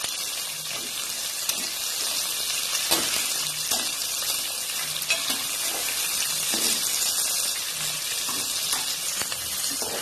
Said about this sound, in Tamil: இப்போ இது எல்லாத்தையும் நல்லா வதக்கிக்கலாம்.